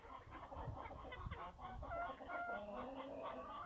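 Chickens cluck and murmur close by, overlapping calls rising and falling over a quiet farmyard background, with no one talking.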